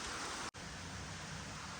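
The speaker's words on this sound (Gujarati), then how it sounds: "વરસાદ આવવા લાગી ગયો" A steady, faint hiss of rain falling, continuous and even, with a brief dropout near the start.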